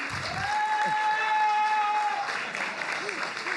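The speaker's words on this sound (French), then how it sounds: "Qui applaudit?" Festival crowd applauding at a live event, a sustained wash of clapping and cheering with a held sung or whistled tone and a voice over the top.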